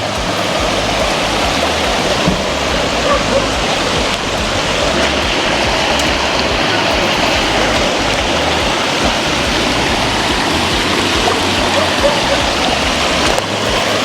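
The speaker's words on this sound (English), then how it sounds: "Water not that wonderful, as you can see. Water. The river came down." A river runs high after heavy water came down, its steady broadband rush of flowing current loud and continuous throughout, with no break in the churning roar.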